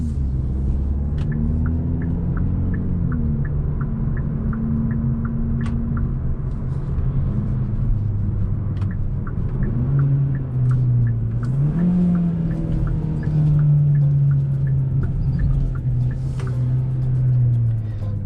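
Engine of a 2021 Hyundai Elantra N Line with a dual clutch automatic transmission while driving: a loud, steady low rumble inside the cabin, rising in pitch with a few gear changes and gentle acceleration, with no voices.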